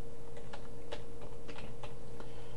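Rapid, uneven clicking of keys on a computer keyboard as a command is typed, close and light over a steady low hum, with no speech.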